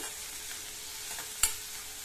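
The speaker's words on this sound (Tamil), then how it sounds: "இந்த வெங்காயம், மிளகாய் இது ரெண்டுமே நல்லா வதங்கி வரட்டும்." Onions and chilies sauté in a pan with curry leaves for a South Indian kurma, giving a steady soft sizzle with one brief sharp stir clack near the end, no voices.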